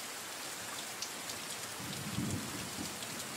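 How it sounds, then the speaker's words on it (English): Steady rain falling, a dense hiss with a low rumble of distant thunder swelling briefly midway, fairly quiet and with no voices. "It is raining"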